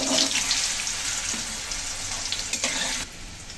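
Cut potatoes hit hot oil tempered with a dried red chilli and five-spice seeds, giving a loud, steady, hissing sizzle that holds for several seconds before easing slightly near the end.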